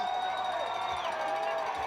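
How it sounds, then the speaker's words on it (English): A rowdy home crowd at a Mandeville High School football game against Slidell on third and long: a continuous roar of massed voices with a sustained shrill tone riding on top, while a commentator speaks over it. "Mandeville crowd getting a little rowdy on this 3rd and long"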